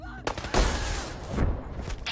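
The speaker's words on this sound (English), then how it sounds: "I totally shot one of the Minutemen in the back." Sharp bursts of gunfire in Fallout 4 crack out in a quick cluster, a strong volley followed by scattered shots fading toward the end.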